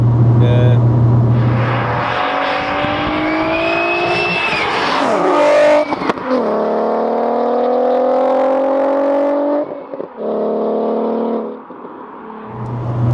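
A supercharged 360 bhp VW Golf R32 Mk4 engine revs hard toward 7,000 rpm, climbing in pitch through the gears, with brief gaps as shifts happen and a tire squeal partway through.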